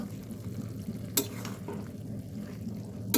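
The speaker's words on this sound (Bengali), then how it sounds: "দিয়ে ভালো করে নেড়ে চেড়ে" Soaked dried mango pieces and mustard paste are stirred in a pan of cooking taro stolons, giving a steady low sizzle broken by a few sharp spatula scrapes near the start and end.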